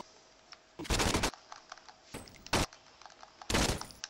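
In Saints Row 2, gunfire comes as three separate loud bursts of rapid shots with quiet gaps between them, over faint game background.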